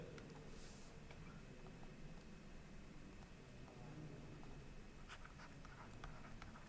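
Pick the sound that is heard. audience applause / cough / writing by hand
writing by hand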